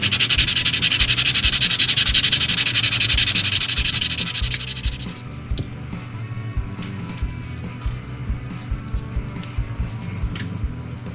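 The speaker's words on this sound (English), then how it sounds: "And I want to sand this down." Sandpaper rubs back and forth over the planked wooden hull of a 1:100 scale ship model, a loud close rasping for about five seconds, then faint scattered scrapes and handling noises.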